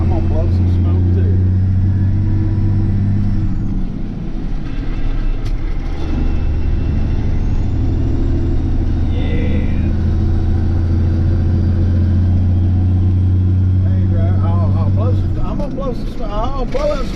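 A Peterbilt 359 diesel truck with a 15-speed transmission, its engine rumbling loud and close as it revs to blow smoke, with someone talking over the steady roar.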